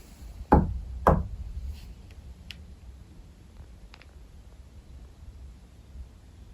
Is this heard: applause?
no